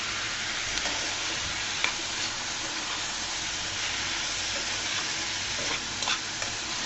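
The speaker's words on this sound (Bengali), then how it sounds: "সুন্দর করে মিশিয়ে নিচ্ছি" Bottle gourd peel frying with turmeric in a pan while being stirred, making a dense continuous sizzling hiss with a few faint scrapes, steady and close, no voices.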